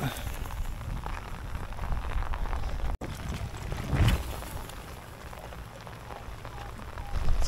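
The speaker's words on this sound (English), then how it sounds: "Raining pretty hard." Heavy rain pelts steadily around an angler out topwater fishing, a dense, close hiss with some wind, swelling briefly midway and holding throughout.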